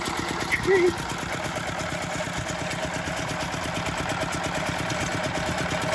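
A Chinese mini tractor engine with a leaky radiator runs at a steady idle, a constant close rumble with fine rhythmic pulsing throughout, and a brief voice near the start.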